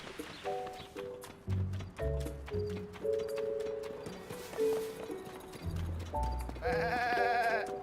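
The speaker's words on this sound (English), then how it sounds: "humans disguised as goats, making human-like goat sounds" Goats bleat in Zelda Tears of the Kingdom, a run of short, tonal, almost human-sounding bleats over game music and soft clip-clop, with a denser, louder burst near the end.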